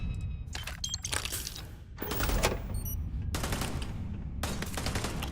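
Rapid bursts of automatic gunfire ring out in a Starfield firefight, several dense volleys of shots crackling at moderate loudness with brief gaps between them.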